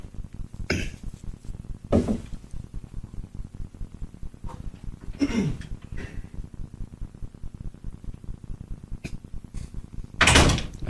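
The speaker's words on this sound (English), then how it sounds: "close the door so I can't hear" A door is closed in a radio studio setting, with several scattered thumps and bumps over a low background hum, and a louder knock-like impact near the end.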